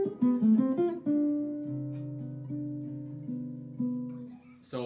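Jazz guitar lick built on the melodic minor scale, played alone: a quick run of picked notes opening into sustained, ringing tones and chord-like harmonies, clear and close.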